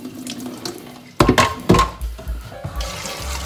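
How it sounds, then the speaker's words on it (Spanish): Running tap water splashing into a kitchen sink as beef tripe is rinsed after soaking in vinegar water, with a sudden louder gush and sloshing bursts partway through, close and continuous, no talking. "Vamos a quitarle el agua con vinagre y vamos a pegarle otro lavadito a nuestros callos."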